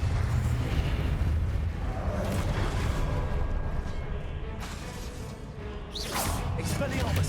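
Confringo fire spell in Hogwarts Legacy: a rumbling fiery explosion under a continuous roar of combat noise, closing with a sharp whooshing burst, loud and close.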